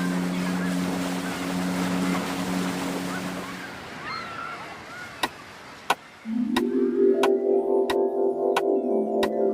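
A motorboat tows a water skier across the sea, its engine droning amid washing waves and wind before a bright musical passage takes over.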